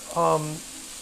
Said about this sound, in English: what we're going to do is keep sauteing these onions